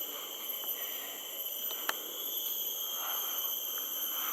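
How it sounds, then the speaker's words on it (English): Cicadas buzz in a forest by the Sungai Cina river in the morning, a steady high-pitched drone that stays constant and fairly faint, with a single sharp click partway through. "Cicadas, can you hear them?"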